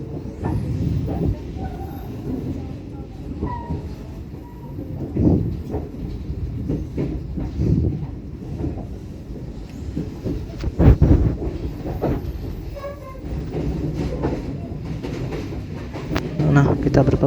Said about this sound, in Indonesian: kita berpapasan dengan KA juga ya teman-teman